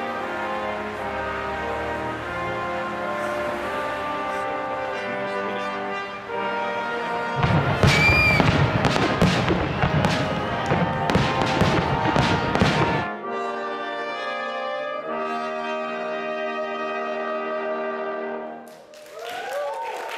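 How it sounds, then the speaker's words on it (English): Fireworks bursting downtown during a Canada Day celebration, a dense run of loud crackling booms and pops in the middle, with music playing before and after. "So some of us went to see some fireworks downtown."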